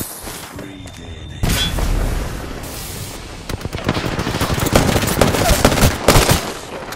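Gunfire in the video game Apex Legends, Season 14: rapid bursts of loud close shots and sharp cracks after a quieter opening, continuing in dense volleys with a few heavier hits.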